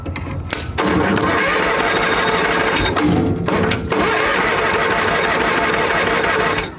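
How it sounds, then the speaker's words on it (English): A tractor engine cranks hard on a small LiFePO4 battery without catching: a steady, fast, rhythmic churn of the starter that runs almost continuously and is close and loud, broken only by brief pauses. "so now we're going to try turning it over, and these are hard to start"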